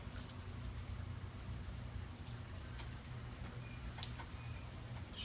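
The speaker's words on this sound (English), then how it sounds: "And it's still raining." Steady rain falls in Houston during Hurricane Harvey, a constant hiss of drops on wet surfaces with occasional closer splashes, heard alone without any talking.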